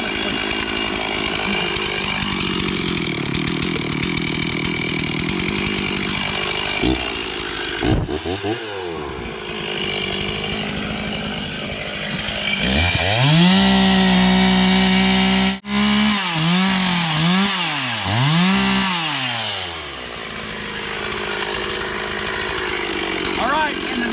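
A chainsaw cuts storm-fallen wood during homestead cleanup, its engine droning loudly throughout with rising and falling revs as it bogs into and clears the cut, and a brief drop near the middle.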